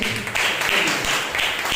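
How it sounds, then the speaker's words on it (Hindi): Congregation applauding during a Sunday morning church service, a steady wash of clapping that fills the short moment without a break. "जोरदार ताली"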